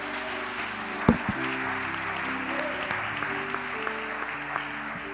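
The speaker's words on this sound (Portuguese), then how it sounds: "dê um aplauso ao Senhor Jesus." A church congregation applauds during a service, steady broadband clapping with a sharp louder burst near the start, continuing evenly at moderate level over a faint sustained organ or keyboard tone.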